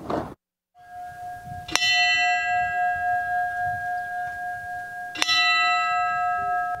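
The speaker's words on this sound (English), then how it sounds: "The solemn and moving moment as the bell rang out across Topps parking lot along Jefferson Avenue" A memorial bell tolls across a supermarket parking lot on Jefferson Avenue. Two loud, clear strikes ring out a few seconds apart, and each long, humming tone hangs in the air over a low outdoor rumble.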